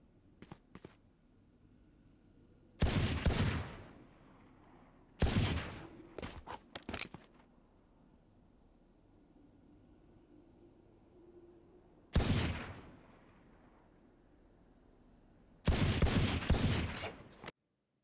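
Sheriff pistol one-tap shots in the video game Valorant, four loud, sharp single gunshots with short ringing tails, spaced several seconds apart over a quiet background.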